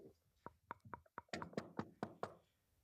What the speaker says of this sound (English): Did you just knock on the table?